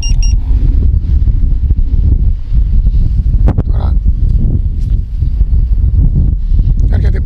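Steady wind buffets a Xiaomi Fimi A3 drone in flight, a loud, constant rushing roar that fills the whole stretch with no letup, as the drone heads back against the wind.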